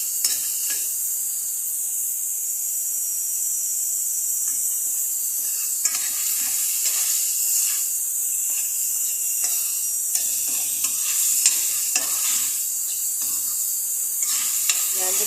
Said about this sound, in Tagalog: Pag medyo lumata na yung sibuyas natin, ilalagay na natin yung gata.